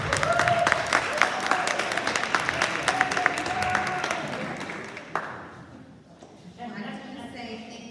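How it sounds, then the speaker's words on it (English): Applause from an audience welcoming a speaker to a grief session rises as a crowded patter of claps mixed with voices and tonal sound, then thins and fades out toward the end. "Please give her a round of applause and welcome her warmly"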